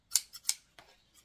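Three or four crisp, close snips of scissors cutting a paper card for a vintage scrapbooking project, quick metallic clicks spaced a fraction of a second apart in a quiet room.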